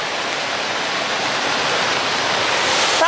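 Turner Falls waterfall roaring steadily, a loud, dense and continuous rush of falling water heard close up with no voices.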